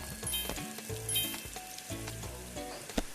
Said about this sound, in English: So put 2 burgers to cook, 2 patties there.